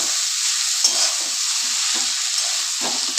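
Flat beans frying in a pan with green chili, turmeric and roasted cumin, giving a steady close sizzle broken by repeated scraping stirs of a spatula.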